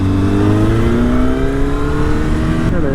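Kawasaki ZX-10R sport bike engine droning loud and steady while riding, a smooth sustained tone with slowly rising pitch and heavy wind rush, a gear shift near the end, no talking.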